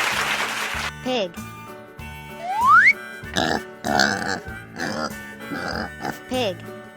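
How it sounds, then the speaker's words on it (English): A toy pig oinks during an animal-sound learning game for children, its short grunting oinks mixed in with electronic music and playful sound effects, with a voice nearby. "Pig."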